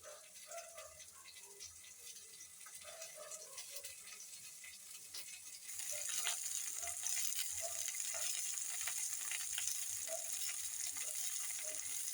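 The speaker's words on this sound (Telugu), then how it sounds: "మళ్ళీ టమాటాలు కొద్దిగా నెయ్యి వేసుకొని వేయించుకోవాలి." Tomatoes frying in a little ghee in a pan, a steady close sizzle that grows louder and denser halfway through, with faint scraping and crackle throughout.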